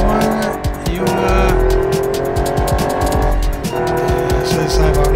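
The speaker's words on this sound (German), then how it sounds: "Das ist der Lamborghini Sound" A Lamborghini Murcielago at full throttle racing toward a huge ramp and leaving it at 300 km/h, its engine roaring loud and continuous with rising revs and brief shifts, close and dense, while someone talks over it.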